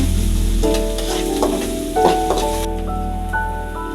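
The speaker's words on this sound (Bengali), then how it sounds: "স্বাদ মতো লবণ দিয়ে দিলাম নাড়াচাড়া করে পেঁয়াজটা লাল করতে হবে" Sliced onions with salt sizzle and fry in a pan while being stirred until browned, a steady close crackle with a few scraping stir strokes and a faint background hum.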